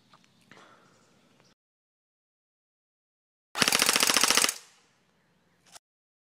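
A G&G GR-15 Raider XL airsoft rifle fires one rapid automatic burst of about a second, a loud buzzing stream of shots followed by a short tail and a single later click, with quiet handling noise before.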